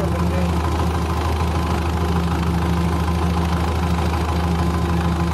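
An HMT 5911 tractor pushing through deep floodwater, its engine revving in a steady, loud, low drone with a knocking throb that holds unbroken throughout.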